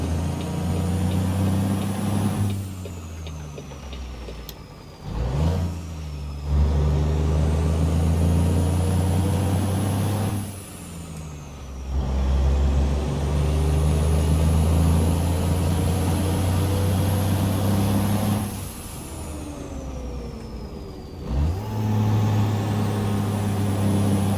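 A Peterbilt 379 in American Truck Simulator pulls away in low gear with a Spicer 5+4 gearbox, hauling a 60-ton Aspen Highboy load. The loud diesel drone climbs repeatedly, and brief dips mark each shift.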